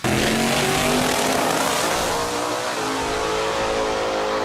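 A loud 1968 Ford Falcon engine revs hard and holds a steady, roaring drone throughout, with no voices.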